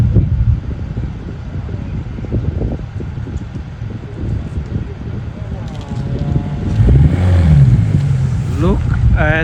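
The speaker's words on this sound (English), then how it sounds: "I think it's Porsche 911." A Porsche 911 at Porsche in Stuttgart drives past, its engine rising from a low background rumble to a louder, closer pass near the end, amid wind noise and someone talking.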